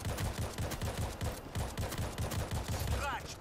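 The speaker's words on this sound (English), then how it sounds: "Is that a suppressed shotgun? It is. This is the short range suppressed shotgun." Rapid, steady bursts of suppressed shotgun fire from a short-range weapon in the World War Z video game, a dense rhythmic run of muffled shots close up with a faint voice near the end.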